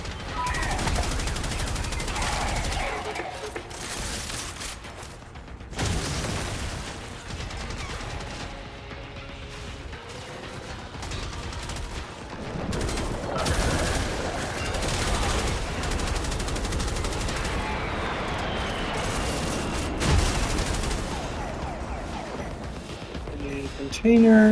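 Rapid gunfire from Warframe combat, with repeated shots and bursts running throughout at steady loudness, some louder blasts, with a voice talking over parts of it.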